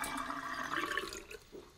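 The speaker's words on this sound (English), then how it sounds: "pull the plug out, let the dirty water go" Dirty water gurgles and rushes down the drain of a bath or sink after the plug is pulled, a short, fairly faint swirling drain sound.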